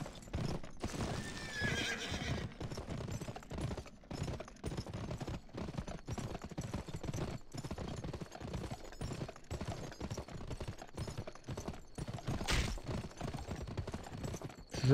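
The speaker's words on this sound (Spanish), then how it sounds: "A ver, que vuestros caballos van muy lentos" Horses in the video game GUN trot with rhythmic clip-clopping hooves, and loud neighs break in over the steady gait, close and continuous.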